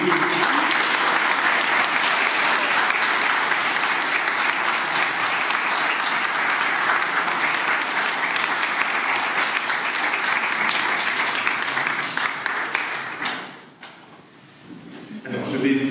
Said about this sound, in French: Eh bien, nous pouvons applaudir les mariés.